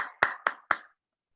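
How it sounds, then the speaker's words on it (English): One person claps hands four times at a steady, fairly quick pace, each clap crisp and close, with no talking around them. "I'm going to clap"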